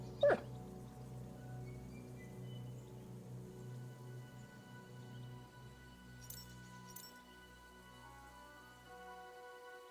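In the medieval video game Kingdom Come: Deliverance 2, a dog gives a faint, soft whimper with quiet background ambience, opening with a brief sharp sound and a couple of small clinks later.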